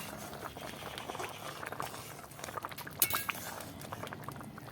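A spoon clinks and scrapes in a pan while egg curry with biryani masala is stirred, the steady sizzle of cooking underneath, with a few sharper metallic knocks midway, close and fairly quiet.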